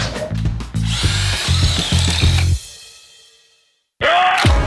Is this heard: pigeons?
no